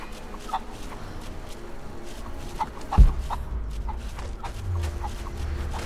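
Chickens in Rise of the Tomb Raider cluck in short scattered bursts, with a sharp thump partway through and low ambient game rumble beneath.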